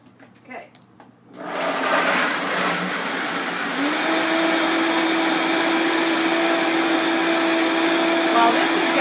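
A Vitamix blender starts up on soaked almonds and filtered water after some brief faint handling noise, then holds a loud, steady whirring roar that rises slightly in pitch as it runs.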